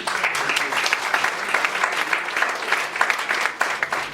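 An audience at an eloquence speech event bursts into sustained applause to welcome a woman onto the stage, a dense, lively wash of clapping with rippling peaks and no speech over it.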